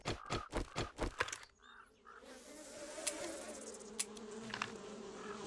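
Buzzing bees in the survival game 7 Days to Die, a steady drone running under the scene, preceded by a burst of rhythmic rapid thumps and followed by a few sharp clicks.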